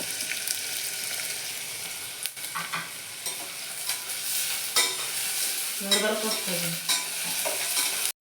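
Onion and chillies frying in oil in a pan, stirred with a spoon, a steady bright sizzle with scraping strokes and clinks near the end, close and fairly loud, no voices.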